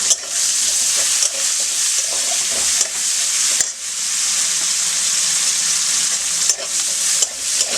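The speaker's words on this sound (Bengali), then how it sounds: "এবার আমি পেঁয়াজ কুচনোগুলো আর রসুনটা দিয়ে একটু হালকা লাল করে ভেজে নেব" Chopped onion and garlic frying with cumin and dry chilli, a loud continuous sizzle with periodic stirring scrapes, close and with no talking.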